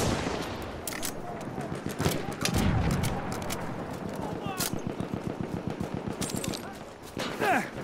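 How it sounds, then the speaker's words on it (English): Enemy machine gun fire in a wartime shooter game, rapid bursts of shots rattling in quick rhythmic strings, with a voice speaking between the bursts. "Machine gun, one of theirs."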